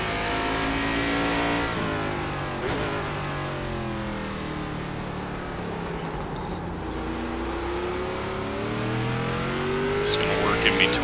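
An ARCA Series stock car on the Tsukuba circuit in iRacing revs hard, its engine pitch sweeping up and down through gear shifts, loud and close throughout, with a brief tire squeal and someone talking over it.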